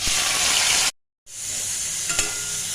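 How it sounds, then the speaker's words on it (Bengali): Cumin seeds with chopped tomato and onion hit hot oil for Bengali dal torka, giving a loud, steady frying hiss that cuts out briefly, then resumes with a few stirring clicks. "এর মধ্যে আমি দিয়ে দেবো ফোড়নে সাদা জিরে, দিয়ে দেবো আগে থেকে টমেটো আর পেঁয়াজ কুচিটা"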